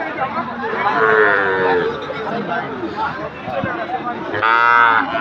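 Sahiwal cattle at a busy livestock market give loud, drawn-out moos, one long call early and another near the end, over a steady hubbub of nearby crowd chatter.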